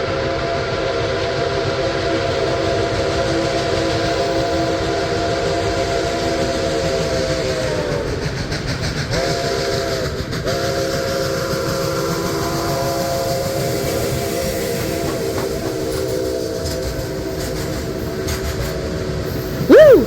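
Steam locomotive 765 rumbles steadily close by while its deep chime whistle blows long, sustained blasts, with a short pause midway, over continuous mechanical noise, on the Cuyahoga Valley Scenic Railroad.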